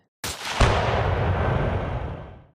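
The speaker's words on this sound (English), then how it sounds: "Without any hesitation, Smith fired, and the shot missed the lizard completely, instead perfectly hitting into the grenade at Duvane's feet." A gunshot sets off a grenade: a sharp crack followed at once by a loud, booming explosion that roars and slowly decays over about two seconds, heard alone.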